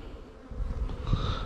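Honey bees buzz steadily around a hive, a dense close drone with a faint high whine that swells louder partway through, no voices present.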